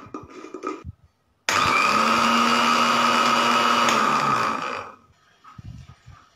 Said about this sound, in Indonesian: Alpukat yang sudah dikupas sebanyak 400 gram, kita akan blender terlebih dahulu.